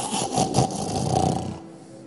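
A voice imitates a husband snoring with a loud, rasping, drawn-out nasal snore, close to the microphone, then trails off into quiet.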